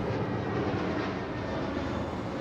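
Low-flying airplane passing over a house roof, a loud continuous broadband roar filling the whole stretch with no voices.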